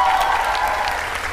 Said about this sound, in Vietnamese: Cho một tràng vỗ tay cho các anh ban nhạc.